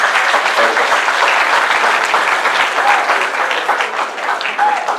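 Sustained audience applause fills a conference hall for an honorable guest speaker at an intercultural conference, steady and dense throughout with a few faint voices mixed in.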